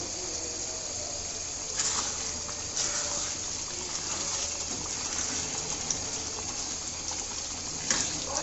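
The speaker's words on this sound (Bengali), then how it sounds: "এখানে আমি অল্পই পানি দিলাম কারণ আমি এটা ভুনা করব" Water gushes steadily in a continuous hissing stream into a pot of beef for bhuna, with a few soft clinks, fairly close and without talk.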